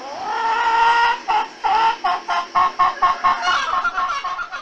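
Chickens clucking close by, a short drawn-out squawk followed by a quick rhythmic run of clucks, with no voices.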